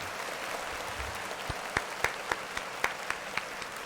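Clapping for Steve Lacy during a Grammy nomination reaction, a handful of sharp, separate claps in a loose rhythm over a soft hiss of background applause, close and moderately loud.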